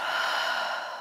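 A single long, breathy exhale out the mouth during a seated yoga twist, soft and airy, close to the microphone and lasting about a second.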